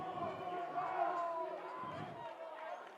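Crowd noise in an indoor gym at a women's college basketball game, a steady murmur of voices and cheers with sneaker squeaks and bounces, heard beneath close talking.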